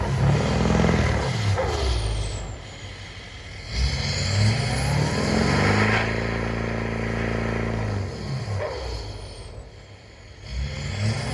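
A hood-stacked Cummins diesel pickup revs and pulls while towing another truck toward a garage, its engine surging and dropping in repeated loud bursts with some clattering, close by and without talk.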